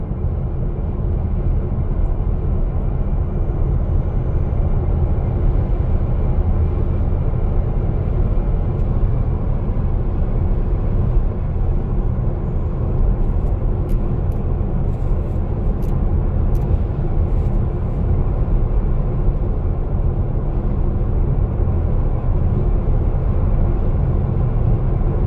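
Tesla car driving itself on Autopilot in highway traffic, center lane: steady, continuous road rumble and tire roar from inside the cabin, even and unbroken throughout.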